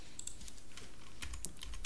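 Quick keystrokes clack on a computer keyboard as a short command is typed, a close, crisp run of taps with no talking.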